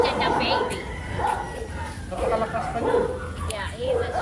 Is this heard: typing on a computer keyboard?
no